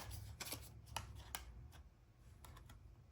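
Tarot cards being shuffled by hand, soft papery riffles and taps in irregular bursts, close and faint in a quiet room.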